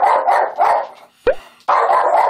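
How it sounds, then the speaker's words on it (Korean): A dog barks repeatedly at dogs appearing on a TV screen, loud close barks in quick bursts with a short yelp and a brief pause between volleys. "화면에 개가 나오자 평소처럼 짖기 시작하는"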